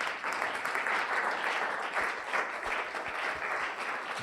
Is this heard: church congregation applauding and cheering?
yes